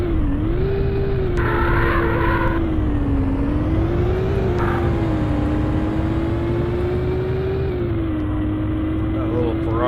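A Ferrari's engine drones steadily in The Need for Speed on the 3DO, a loud sustained hum that rises and falls gently with shifts and revs, with brief chimes and effects over it.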